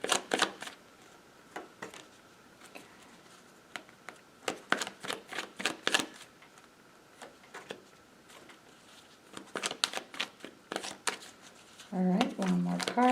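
Tarot cards are shuffled and drawn in bursts of crisp flicking and riffling, close and fairly quiet, with a voice starting at the end.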